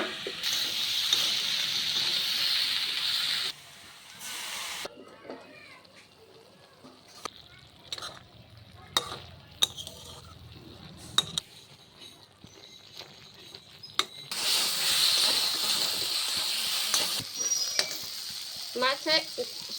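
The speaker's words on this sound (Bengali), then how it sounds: "মাছের সবজি ভাজা হয়ে গেছে" Sliced eggplant and potato, with garlic and onion paste and salt, sizzle in hot oil for a small fish curry. A steady loud fry is heard up close, broken by scraping stirs and clattering spoon knocks, then the sizzle swells again.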